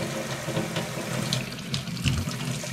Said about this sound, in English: This one also has a handy spray option